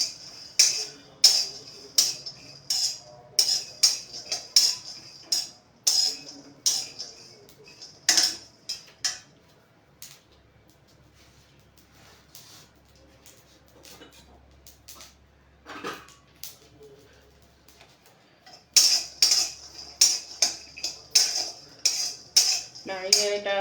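Garlic cloves are stirred in a dry pan, with rapid clattering clicks and taps of the utensil against the metal in irregular bursts, a long quiet gap midway, then more clicking.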